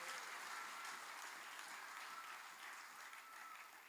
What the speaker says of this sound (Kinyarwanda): tubaha amashyi menshi.